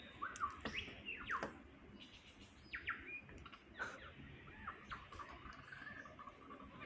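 A young bird in a Blue Mountains forest gives faint, scattered chirps and squawky calls at irregular intervals over soft ambient background noise, with no talking.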